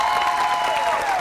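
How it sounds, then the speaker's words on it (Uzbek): An audience at an Uzbek light-entertainment show claps and cheers in steady, dense applause that holds for the whole moment. No one speaks over it. "Bitta chiroyli guldiroz qarsaklar."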